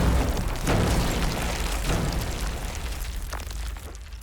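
Warwolf trebuchet firing, a deep rumbling boom that swells at once and slowly fades over a few seconds, loud and close, with no talk over it.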